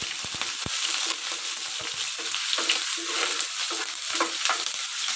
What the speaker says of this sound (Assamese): পিঁয়াজ দিয়াৰ লগতে মই বিলাহীখিনিও দি দিছোঁ